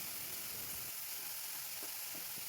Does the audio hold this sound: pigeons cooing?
no